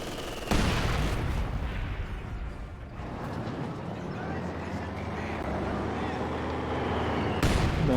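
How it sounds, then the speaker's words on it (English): Mortar fire in the Company of Heroes 2 video game: distant thumping shell impacts and rumbling blasts within ongoing battle noise, with a sharp burst at the start and another near the end, under a commentator's voice. "the mortars are getting some nice shots onto the Packs"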